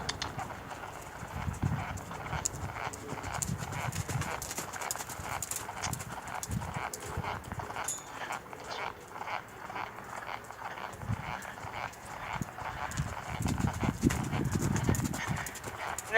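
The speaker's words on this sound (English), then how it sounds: "So I might ask for the canter now." Horse cantering in an arena, a steady rolling rhythm of muffled hoofbeats on soft footing, moderately close, with occasional snorts and breathing and some quiet background noise, no clear talk.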